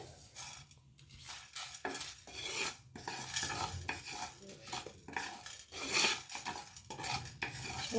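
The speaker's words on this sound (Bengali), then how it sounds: "এর মধ্যে আমি সব গোটা মশলাগুলো দিয়ে দিচ্ছি। এগুলো একটু শুকনো খোলায় ভাজা হবে।" Whole spices dry-roast in a pan, heard as a run of close metallic scrapes and rattles from a spoon stirring against the metal, irregular and fairly quiet, with only a faint sizzle underneath.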